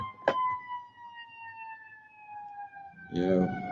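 An emergency vehicle siren wails on a New York City street, a steady sustained tone running nearly the whole clip at moderate distance, with a sharp knock early on and a burst of street noise near the end.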